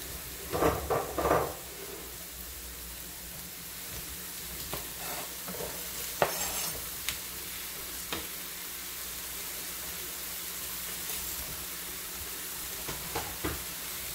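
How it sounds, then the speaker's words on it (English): Sausage sizzling in a frying pan as it goes in for a shrimp and sausage stuffed pineapple, a quiet continuous sizzle broken by a few scraping stirs and utensil knocks near the start and scattered later. "I am going to go ahead and put my sausage in."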